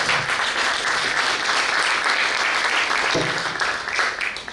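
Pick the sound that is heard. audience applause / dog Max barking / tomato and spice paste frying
audience applause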